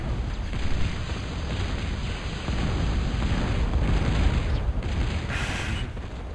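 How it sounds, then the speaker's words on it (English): Bombs exploding in the NOTA strategy game, heard as a dense, continuous rumble of low booms with no distinct individual blasts, steady and fairly loud throughout. "Drop, drop, boom, boom. The bombs just straddling their intended targets."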